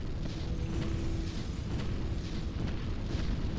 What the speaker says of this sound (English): Commence bombing run.